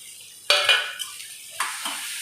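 Bitter gourd (ampalaya) hits a hot pan with a sudden sizzle, followed by a second burst of frying and light scraping and clinking of a utensil against the pan.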